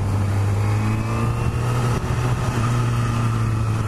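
A 2017 Honda CBR1000RR SP sport motorcycle engine holds a steady, loud, low idle drone throughout, with no revving and no voices.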